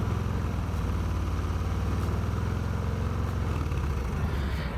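A Harley Davidson engine with a Cobra El Diablo 2-into-1 exhaust is held at around 3,000 rpm, giving a loud, deep, steady rumble that stays close and even throughout, with no talk.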